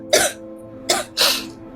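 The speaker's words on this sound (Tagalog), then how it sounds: "Inuubo ka na naman" Three harsh coughs up close, the first alone and the last two coming quickly together, with short quiet gaps.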